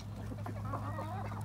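Hens cluck outside by a chicken pen and field, soft close murmuring calls over a steady low hum.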